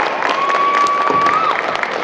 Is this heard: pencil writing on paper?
no